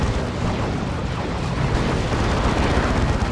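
Lascannon fire at a Land Raider in Warhammer 40k Dawn of War 2 lands as a dense, loud explosive rumble, continuous battle noise with booms blending together and no clear gaps.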